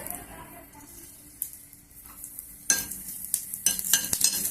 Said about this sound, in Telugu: ఎక్కువ వేయించరాదు జీలకర్ర తొందరగా మాడిపోతుంది